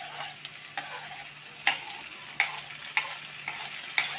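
Beef frying in a pan sizzles steadily while being stirred with tomato, and a utensil scrapes and taps against the pan in sharp, repeated strokes about every half second.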